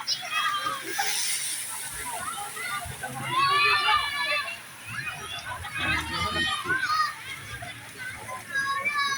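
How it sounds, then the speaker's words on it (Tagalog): A resort wave pool churns and splashes while children shout and play nearby; water sloshes continuously under lively kids' voices and adult talk. "May wave pool dito."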